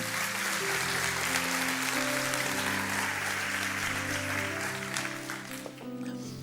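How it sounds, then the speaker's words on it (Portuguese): Loud, sustained applause from a church congregation during a sermon fills the space, with a held musical tone underneath, fading slightly near the end. "Dê o melhor aplauso que você pode dar ao Senhor"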